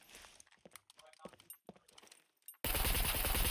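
Gunfire in the video game SCUM, a loud burst of shots crashing in near the end after a stretch of quieter scattered sounds, with players talking over the action.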